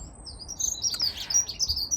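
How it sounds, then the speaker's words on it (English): A songbird sings in an English garden in early April, bright chirps and short trilled phrases coming in bursts over quiet background hum. "I hope you could hear that beautiful bird singing."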